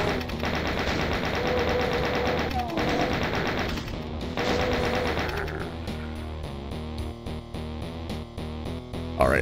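A Doom 2 chaingunner fires a rapid machine gun in the game, with dense rattling bursts and mechanical clatter throughout, loud and continuous, mixed with layered game audio and a speaking voice.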